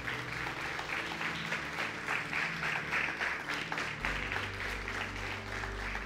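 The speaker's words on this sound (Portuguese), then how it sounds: "Pode aplaudir o Senhor." A church congregation claps together through a worship service, an even wash of applause with a low hum of amplified sound underneath and no clear voice on top.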